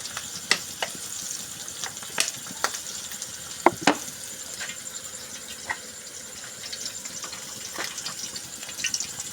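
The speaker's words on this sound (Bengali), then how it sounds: "কড়াইয়ে তেল দিয়ে দিলাম" Oil poured into a hot karai on the stove for egg dal gives a steady, soft sizzling hiss, with scattered sharp clicks and a couple of louder taps of utensils against the pan.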